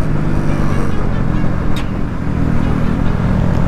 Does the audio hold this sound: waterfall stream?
no